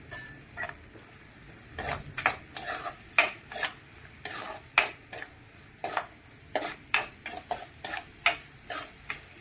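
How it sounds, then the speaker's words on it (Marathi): Onions with turmeric frying in a pan, a low sizzle broken by repeated sharp spatula scrapes and clinks against the metal in an irregular rhythm, close and without voices. "त्याच्यात हळद टाकली कांद्यामध्ये की कांदे लवकर होतात"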